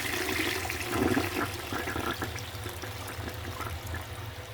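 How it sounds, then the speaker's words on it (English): A toilet flushing after being cleaned with nitric acid, a loud close rush of water that surges early and then settles into a steadier swirling refill. "I need to flush that a couple more times, get all that chemical cleaned out"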